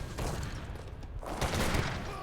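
Gunfire crackles in an Age of Empires 3 battle as a falconet cannon is sniped down, a dense, steady volley of shots with a louder burst near the end.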